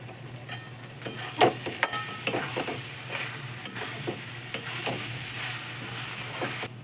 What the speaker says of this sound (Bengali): অল্প একটু চিনি দিয়ে দিলাম এর মধ্যে টেস্টটা ব্যালেন্স করার জন্য এবার ভালো করে কষিয়ে নেবো